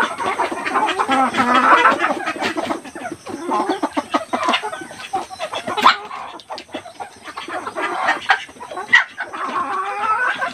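Several chickens cluck and murmur continuously at close range, with scattered sharp pecks and taps throughout.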